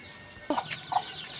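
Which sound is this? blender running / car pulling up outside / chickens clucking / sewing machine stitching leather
chickens clucking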